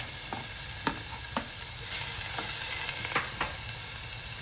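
Onion, green chili, ginger and garlic fry in a pan for beef curry, a dense continuous sizzle broken by several sharp clinks and scrapes of stirring at irregular intervals.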